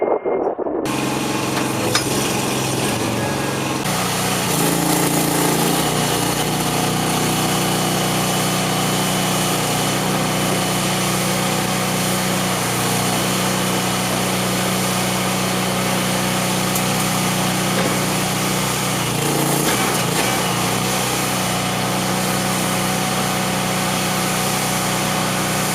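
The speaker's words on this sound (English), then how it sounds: "Simply push it down and listen to the engine until it's unlocked." An engine runs continuously at a loud, steady idle with a dense mechanical roar and slight shifts in tone, with no talking.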